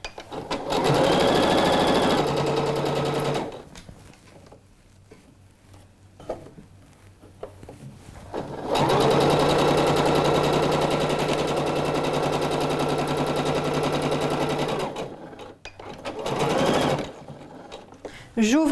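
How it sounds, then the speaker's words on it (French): A sewing machine runs in two long bursts, stitching pinned fabric for a blouse or crop-top one centimetre from the edge. The whirring hum is steady and close, with pauses between runs and a voice speaking in the gaps. "on va tout simplement piquer à la machine à 1 cm du bord"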